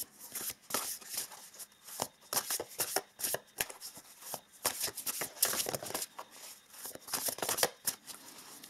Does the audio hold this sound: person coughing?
no